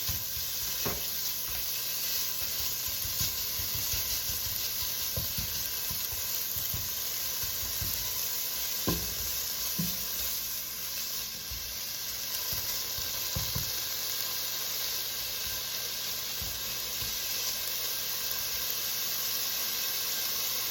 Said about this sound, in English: I'm first going to add in the bacon so it releases its own fat